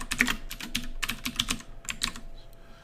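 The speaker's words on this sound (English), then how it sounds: "I'm going to just type in slicer options" Keys clatter on a computer keyboard in bursts of quick, close taps with brief pauses between words, fairly quiet, with no talking.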